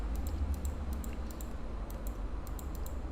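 Numbers being typed on a computer keyboard as a run of light, evenly spaced key clicks, faint and close over a steady low hum, with no voices.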